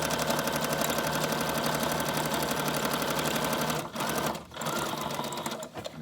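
A sewing machine runs zigzag stitches through a manila Valentine's envelope for a junk journal, a steady, close mechanical whir that carries on nearly unbroken, with two brief pauses near the end.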